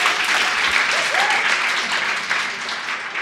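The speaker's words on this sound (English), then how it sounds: "give her a round of applause" Audience applause at a Fuckup Nights storytelling event in Toronto, a steady, dense wash of clapping from a crowd that runs loud and continuous throughout, with a faint voice briefly audible beneath it.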